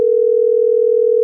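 A steady, loud telephone dial tone holds unbroken for the whole moment while a call is being placed, with no other sounds.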